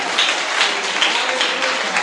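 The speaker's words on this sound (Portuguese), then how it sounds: "Exaltemos e aplaudimos o Senhor." A church congregation claps together during a worship service, a steady, dense wash of applause that fills the space evenly with no break.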